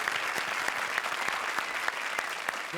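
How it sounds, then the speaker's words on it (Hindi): A studio audience claps for a finalist comedy pair on Comedy Circus, with steady, even applause throughout. "जोरदार तालियां for our finalist जोड़ी, please."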